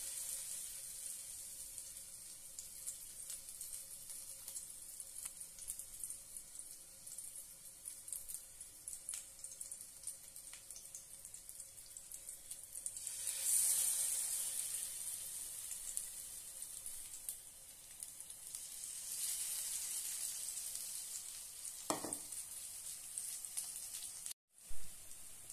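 Dipped bread frying in a pan with little oil, a faint steady sizzle and crackle running throughout, with a brief louder hiss midway and a soft clatter near the end.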